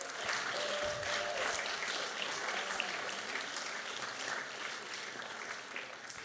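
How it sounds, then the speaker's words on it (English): A large audience at a Broadway honorees gala gives the committee sustained, even applause that holds at a steady level for over six seconds, with faint voices underneath. "Let's give a long round of applause for all of our committee"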